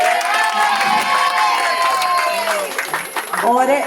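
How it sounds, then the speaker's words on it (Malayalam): Lively crowd at an Onam celebration cheering and clapping, a dense steady roar of voices with shouts and applause throughout, close and loud, with talk mixed in. "എല്ലാ ആളുകൾക്കും നല്ലൊരു കയ്യടി കൊടുക്കുക"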